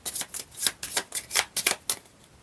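A deck of playing cards is shuffled in a series of about ten quick, crisp riffling bursts, close and clear, with no talk.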